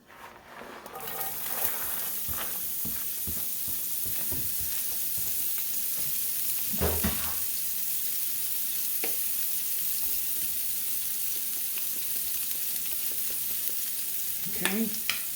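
Carrots, celery and thyme hit the hot pan for shrimp mini pot pies, a sizzle that swells and holds steady, broken by occasional utensil knocks and stirring scrapes.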